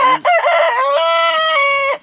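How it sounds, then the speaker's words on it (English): A chicken lets out a loud, drawn-out cackling call up close, a single squawking burst that rises and holds before cutting off. "Boy, the chickens just want to talk."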